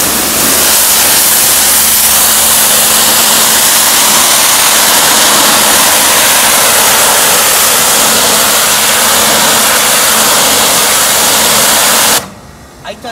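A Nilfisk MH 5M 180 hot water pressure washer with electric boiler sprays steadily, a loud, close, continuous hiss with an underlying motor hum, cutting off abruptly near the end.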